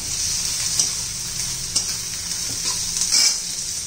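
Leftover chapati cut into noodles being stirred with Maggi masala in a hot pan, a steady close sizzle with repeated scraping strokes of a spoon against the pan, no talk.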